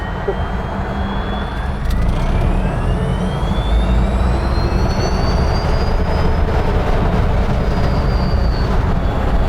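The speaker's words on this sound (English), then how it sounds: "I guarantee you no other Land Rover takes off like this" A vintage Land Rover Series II converted to fully electric drive pulls away, a rising whine sweeping upward over heavy road and wind rumble, loud and close from inside the vehicle.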